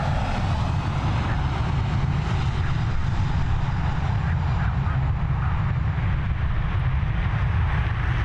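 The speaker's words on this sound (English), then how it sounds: "It's an Airbus A320 She's going to be up and away" Iberia Airbus A320 taking off from Dublin Airport, a loud, steady engine roar with heavy low rumble that holds throughout without fading.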